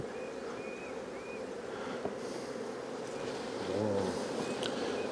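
A low, steady hum of many honey bees buzzing close by in an early spring hive, a dense drone with occasional individual bees flying past.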